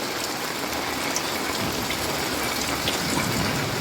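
Heavy rain pours down steadily, a dense continuous hiss of water drumming on surfaces, loud and close, with faint scattered drips and no talking.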